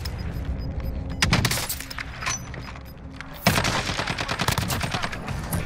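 Rapid gunfire from a Call of Duty: Warzone match, with dense bursts of shots and sharp cracks, a louder volley partway through, continuing steadily without talk.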